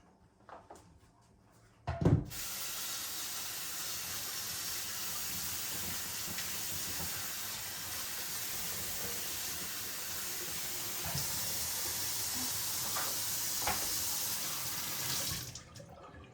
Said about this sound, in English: We're gonna wash quickly our boards.